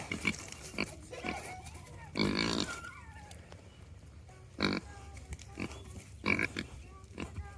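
A well-trained pet pig grunts and oinks in short, scattered bursts, a few of them louder and harsher, set against a quiet indoor background.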